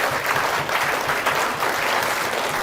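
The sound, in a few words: audience applause for Neil Hanvey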